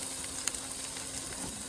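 A thick chunk of duck sizzling in a pan over a camping stove outdoors, a steady close crackling hiss with occasional small pops throughout.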